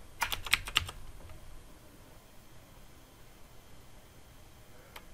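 A computer keyboard is typed on to enter a command in a Windows Server session: a quick burst of close, clicky keystrokes at the start, then quiet room hiss with a faint tap at the end.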